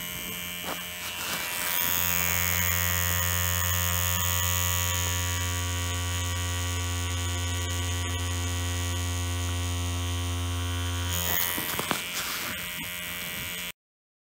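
A tattoo machine buzzes steadily and loudly while drawing a line with the needle, a constant electric hum starting after a brief lead-in and running unbroken for about ten seconds before cutting off, with faint handling noises at the edges.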